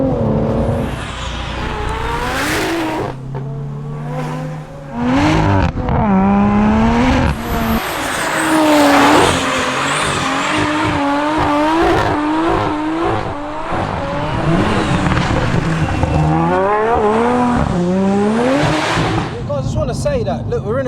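A 730bhp big-turbo rear-wheel-drive BMW M140i driving hard, its engine revving loud and close through rising and falling gear changes, with tire squeal and people talking over it.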